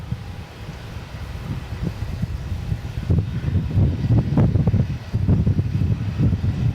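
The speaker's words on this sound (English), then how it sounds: "So certainly a breezy afternoon up here" Breezy afternoon wind buffeting an outdoor microphone at Melbourne Airport, a steady low rumble that swells into stronger gusts partway through, with no talk.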